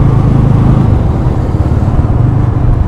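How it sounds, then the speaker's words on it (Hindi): A TVS Ronin 225cc motorcycle engine runs steadily while riding, a loud, continuous low rumble close up with no talk over it. "यह है TVS रोनिन"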